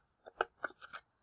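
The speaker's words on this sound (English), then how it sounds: "I like to cut out some as I go, just because I think it's easier to move my scissors around." Scissors snipping around a paper cut-out shape, a quick run of five or six soft close crisp cuts in a quiet room.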